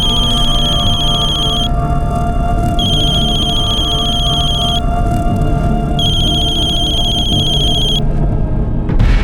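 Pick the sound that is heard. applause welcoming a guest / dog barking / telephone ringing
telephone ringing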